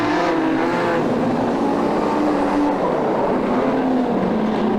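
Modified sedan race car engine at Lismore Showgrounds, a loud continuous droning roar with a wavering pitch as the car rolls through corners, easing off the throttle, with no speech over it.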